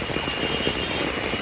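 Heavy rain pours in a waterlogged town, a dense, constant hiss of drops beating on surfaces close by, loud and unbroken, with no voices.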